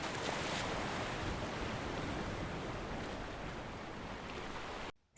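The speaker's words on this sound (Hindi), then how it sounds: "समंदर" Ocean waves: a continuous loud wash of surf, broad and rushing, holding steady for about five seconds before cutting off abruptly, with no voices.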